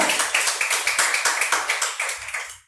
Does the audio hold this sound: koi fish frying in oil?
no